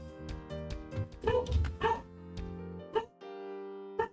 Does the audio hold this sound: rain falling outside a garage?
no